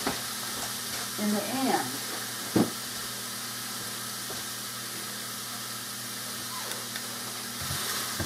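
Lean ground beef frying in a pan gives a steady, moderate sizzle and hiss, broken by a few stirring clatters, with a brief voice speaking near the start.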